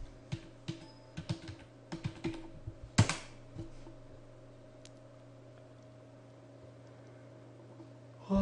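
A command typed on a computer keyboard: a quick run of close, crisp key clicks, a sharper keystroke, then quiet with a faint steady hum.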